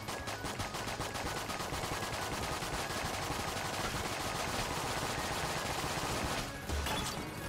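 A turret in the game Enter the Gungeon fires a continuous rapid stream of shots, loud and relentless, with one brief dip near the end before it resumes.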